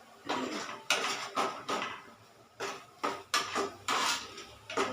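A spoon clanks and scrapes against a metal pot as fish curry is stirred, about eight loud, distinct strokes in an irregular rhythm, close up with no talking.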